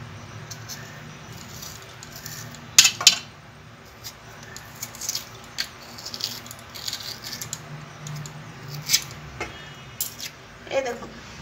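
A metal spoon scrapes out the soft inner flesh of a fruit in short, intermittent strokes and clinks against the shell, moderately close, while a person talks over it.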